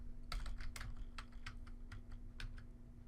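Quick bursts of keystrokes on a computer keyboard, close and fairly quiet, clicking in short irregular clusters with brief pauses between them.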